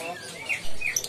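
Lovebirds chirp at the Ponorogo bird market in a short burst of bright, high calls. The calls rise in the second half and sit over a low murmur of market background.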